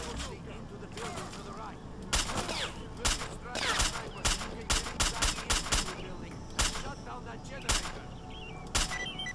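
Bursts of gunfire from the video game STALKER: Clear Sky in a hospital fight, with a dozen or so sharp shots in quick irregular clusters over a low background rumble.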